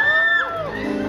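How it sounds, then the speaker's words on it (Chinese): Concert audience at a live show yells and whoops, with a high sustained cry sliding down into overlapping shouts from a crowd, loud and close. "不要叫，你叫我有吓到。"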